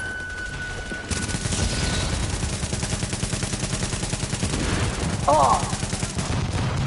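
Rapid automatic gunfire in The Division, the Tom Clancy shooter, rattles on steadily for several seconds after a quieter opening, with a short exclamation from a player over the shooting.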